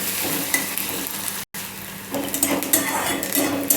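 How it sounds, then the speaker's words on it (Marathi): Chopped onion frying in hot oil in a pan, a steady close sizzle with spatula stirring and clinks against the pan, briefly interrupted by a short gap. "कांदा चांगला फ्राय करून घ्यायचा आहे"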